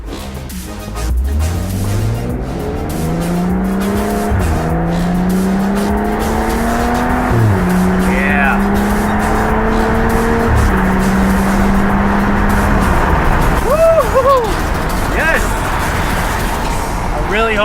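A BMW F30 335i fitted with an Agency Power exhaust accelerates hard through several gears, its engine note rising and falling with each shift, loud and close, with a brief tire squeal and excited voices talking over it.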